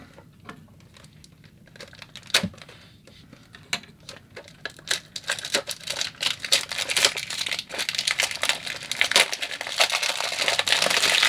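Packaging is opened on a 1/64 scale LMF LemanFang diecast Mercedes-Benz Vision AVTR model car, with close crinkling and crackling of plastic and card that starts sparse with a few sharp snaps and grows denser and louder, and no speech.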